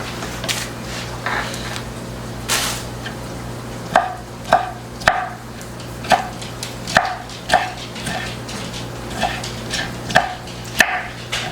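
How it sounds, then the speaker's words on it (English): Drained broccoli being chopped into smaller pieces with a knife on a cutting board, a run of sharp, fairly regular thuds and clicks close up, following a few softer handling noises, with no voices. "I'm going to go ahead and drain this broccoli and chop it into smaller pieces."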